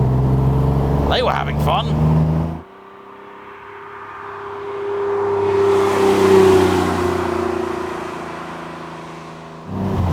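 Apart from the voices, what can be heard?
Porsche 911 car driving past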